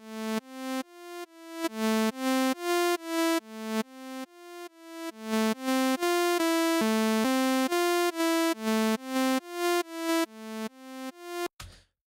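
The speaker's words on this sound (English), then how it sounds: "I can control that sound by giving it a little bit of a slower attack" Synthesizer notes with a slow attack swell in one after another in a steady repeating pattern, each tone fading up rather than striking, a clean and fairly quiet sequence that ends abruptly.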